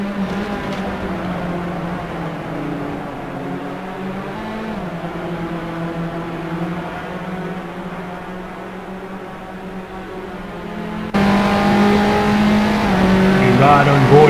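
Race cars lapping Silverstone in a sim racing game, a BMW 3 Series class: a steady, loud engine drone holding pitch along the straight, then shifting to a brighter, harsher note near the end, with commentary voices underneath.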